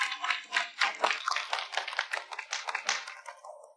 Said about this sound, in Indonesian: Mari kita beri tepuk tangan sambutan.